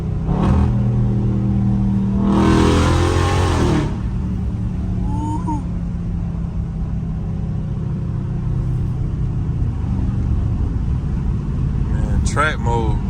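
A catless Dodge Scat Pack in track mode revs hard and downshifts, its rumbling exhaust echoing off nearby trees and fences; loud bursts rise and fall over about four seconds, with people talking around it.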